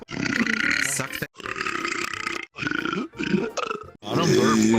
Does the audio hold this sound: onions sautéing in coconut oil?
no